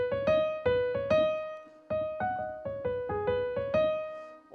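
Piano plays the verse melody of a song as single struck notes in a simple stepwise line, each decaying before the next, with a brief pause midway, clear and close, no voices.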